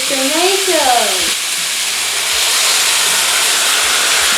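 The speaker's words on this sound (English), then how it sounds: "So as you can see, I'm gonna add my tomato now." Tomato hitting a hot pan, a broad loud hissing sizzle that keeps going steadily, with a brief voice at the start.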